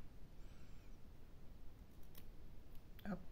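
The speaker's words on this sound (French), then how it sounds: "Je coupe." Scissors cut through craft ribbon with a single quick snip near the end of an otherwise quiet, faint stretch of room noise.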